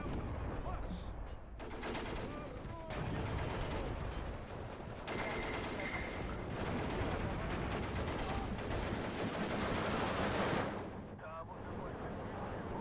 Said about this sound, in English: Smash that area with artillery fire.